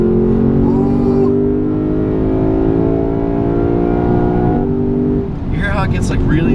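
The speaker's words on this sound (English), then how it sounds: "You hear how it gets like really intense right at its red line?" A 2016 Lexus GS-F's LFA-inspired V8, heard from inside the car on a curvy road, revs hard toward its red line in a loud, sustained, rising engine drone that briefly drops as it shifts, then climbs again.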